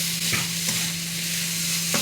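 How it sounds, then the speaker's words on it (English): Turkey mince browning in a pan with carrots, onions and garlic, a loud continuous sizzle with a few sharp scraping stir strokes up close, no voices. "we're just going to stir it until it's completely browned off and mixed in with the carrots and the onions and the garlic"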